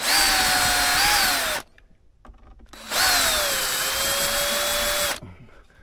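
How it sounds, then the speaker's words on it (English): A power drill backs screws out of a Fender Bassman reissue amp chassis in two loud, close whirring bursts that sag in pitch under load, separated by a short quiet pause. "let's put that drill down"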